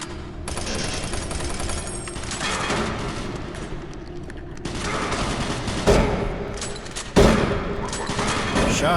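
Heavy, dense gunfire from a shotgun in the PC shooter Doom 3, a loud continuous barrage with sharper blasts standing out near the end, with no talk.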